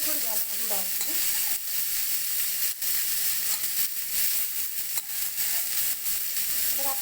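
Potatoes frying in a pan for Kanpur-style Maggi, a constant bright sizzle with occasional stirring scrapes and light clicks close by.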